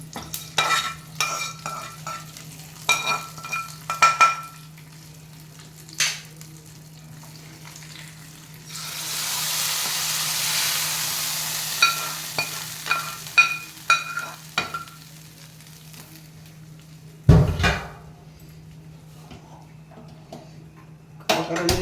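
Tempering (tadka) for fenugreek-leaf dal sizzles in a pan on a home stove, with a broad hiss swelling in the middle, while a spoon clinks and stirs against the metal throughout; a low steady hum runs underneath.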